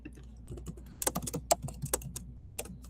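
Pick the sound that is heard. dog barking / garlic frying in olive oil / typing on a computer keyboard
typing on a computer keyboard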